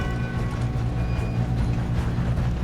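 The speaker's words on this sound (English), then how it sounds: "We have to stop this train." A train in the Red Dead Redemption 2 video game rolls steadily along its tracks, a dense, continuous low rumble with faint metallic whine and tonal hum running throughout at a close, even loudness.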